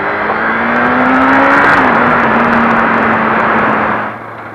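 Motorcycles ride past at a large biker meetup in Umag, Croatia: a loud, close engine drone with a steady pitch that rises and then sweeps down as the bikes pass, fading slightly at the end.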